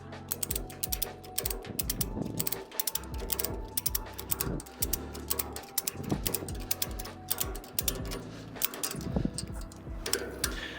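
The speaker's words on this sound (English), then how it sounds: "we can then start to tighten the strap" A ratchet strap is tightened on a car trailer, with repeated close mechanical clicks and clunks of the ratchet handle in uneven strokes, fairly quiet overall.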